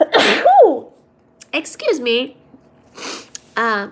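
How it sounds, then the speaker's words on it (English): A single loud, close sneeze bursts out at the start, followed by a person talking in a quiet room during a live study session. "Sorry, that was a sneeze."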